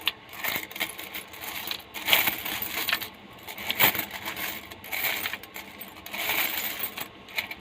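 Old Philippine coins, large pieces from 1991 and 1995 including commemorative issues, clink and rattle as they are sorted and handled by hand, with repeated close metallic jingles in irregular bursts.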